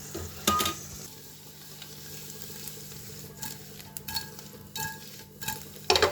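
Spinach is roasted in a pan and stirred now and then, giving a low steady sizzle broken by sharp scraping and clinking strokes of a utensil against the pan, close up and with no voices.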